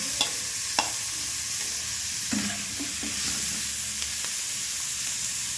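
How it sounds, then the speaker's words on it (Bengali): Cauliflower, onion and carrot sizzle steadily in hot oil in a pan, with a few sharp spoon scrapes and stirring knocks breaking through the continuous frying hiss. "ফুলকপি আর পেঁয়াজটা একটু ভেজে নেব লাল লাল করে।"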